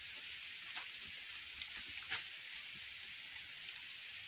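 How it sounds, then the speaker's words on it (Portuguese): Heavy rain falls steadily on a farm shelter in rural Bahia, a dense continuous hiss with scattered louder drip impacts, fairly quiet and with no voices. "Tá chovendo muito e essa chuva sempre está passando aqui."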